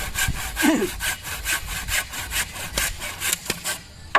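A new hand saw cuts through wood in quick, regular back-and-forth strokes, close and rasping, ending with a sharp knock.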